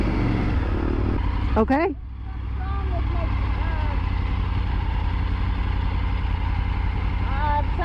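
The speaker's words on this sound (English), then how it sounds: "It's revving and not moving forward." A Triumph Tiger motorcycle with a slipping clutch runs at a steady, loud, close engine drone. The pitch shifts up and down briefly, and a person speaks over it.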